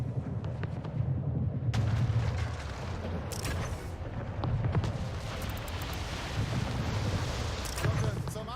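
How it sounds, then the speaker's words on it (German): Cannon fire from a ship in the strategy game Anno 1800 comes as a steady stream of heavy rumbling booms and blasts over a windy, roaring battle bed, loud and continuous. "Schiff unter Beschuss."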